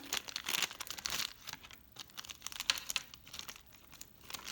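A toy package is crinkled and torn open by hand: quiet, close, irregular plastic crackles and rustles in bursts, with no talking.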